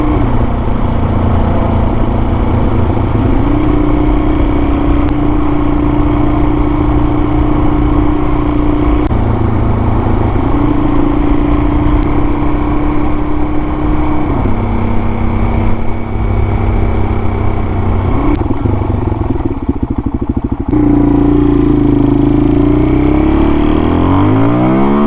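A motorcycle fitted with an FCR39 clone carburetor cruises on back roads, its engine droning loud and close with steady rpm holds and several gear shifts, plus wind rush.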